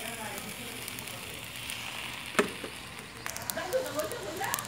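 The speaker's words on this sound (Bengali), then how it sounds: "কড়াইতে আমি দিব লাউ শাক দিয়ে আলু দিয়ে ভাজি করব।" Bottle gourd greens and potato sizzle in oil in a kadai over a clay wood-fired stove, a steady soft frying hiss with occasional louder crackles and a voice talking over it.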